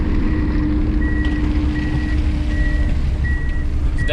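A 600 winch snow groomer backing up sounds a steady series of repeated reversing beeps over its loud, continuous diesel engine rumble, close by with no talking.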